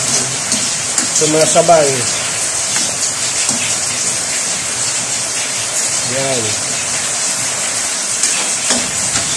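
Heavy rain pours as a steady broadband wash, constant and fairly loud, while a person talks briefly over it and a bird chirps a couple of times in the background of a home kitchen.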